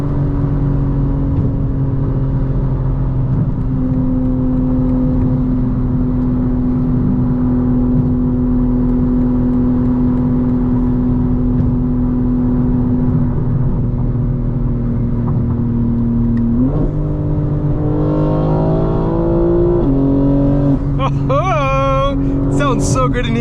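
2025 BMW M4 Competition xDrive engine heard from the cabin while drifting, a loud steady drone that holds at a constant pitch and then climbs in rising revs near the end.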